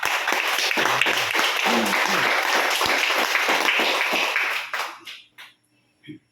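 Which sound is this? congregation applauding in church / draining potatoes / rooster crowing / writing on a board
congregation applauding in church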